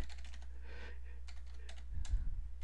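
A password being typed on a computer keyboard during a Cisco router login, a quick run of close, crisp key clicks over a low steady hum, with no talking.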